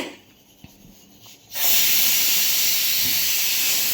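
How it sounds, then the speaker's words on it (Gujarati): A pressure cooker, cooking potato curry in a home kitchen, suddenly lets out a loud, sustained whistling hiss of escaping steam after a quiet start, holding steady to the end. "કુકરની સીટીઓ વાગી રહી છે."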